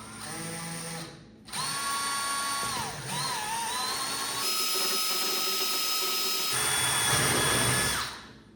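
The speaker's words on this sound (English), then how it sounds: "I'm clamping these end strips so that I can drill just one time through both sides and the plastic" A power drill with a 1/8 inch bit bores through clamped plastic end strips and a MAAX Cyrene shower wall, whining loudly and steadily with pitch shifts as the bit bites and breaks through, then winds down near the end.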